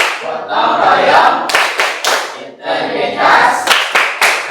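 A group claps the Tepuk PPK rhythm in a classroom, two loud bursts of rapid hand claps with shouted voices mixed in and a brief pause between them.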